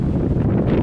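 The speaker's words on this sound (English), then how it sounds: "This is why, precisely why, we're in a high wind warning." Strong wind gusts under a high wind warning, with gusts of up to about 60 to 65 mph, roar steadily and loudly as broadband rumbling noise buffeting the microphone, with no voices.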